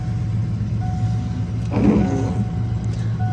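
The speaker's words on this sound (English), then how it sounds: "Power windows on the right." An electric window motor whirs briefly on a 1998 Ford Mustang GT 5.0L, a short rising hum under a steady idle drone inside the car.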